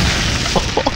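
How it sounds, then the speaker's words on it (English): An explosion spell in the Konosuba gacha video game booms with a loud, dense blast of noise, followed by a few short popping bursts near the end. "explosion!"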